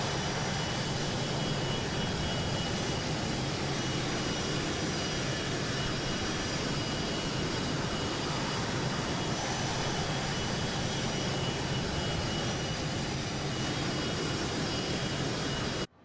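An Embraer Phenom 100 jet in Microsoft Flight Simulator 2024 gives a steady, loud, broadband engine roar and rushing air. It runs unbroken for the whole stretch with no talking.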